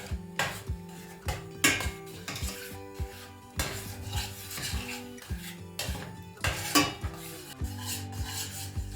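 A çiğköfte mixture is sautéed in a pan, with repeated rhythmic scraping and knocking of a utensil against the metal. Faint sizzling runs underneath the strokes.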